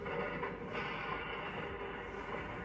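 Freight train cars and a diesel engine rumble steadily in a rail yard as the engine couples onto the train, a continuous, fairly close mechanical roar with no voices.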